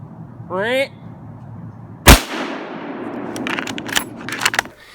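A single loud, sharp hunting-rifle shot fired at a buck deer in the Maine woods, with a long echoing decay rolling through the forest afterward, preceded by a brief rising call.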